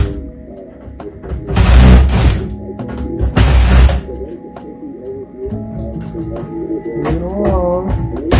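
Screws being removed from a Canon PC921 laser printer copier during a teardown: ratcheting, mechanical clicks and squeaks close up, with two louder bursts of rattling noise early on.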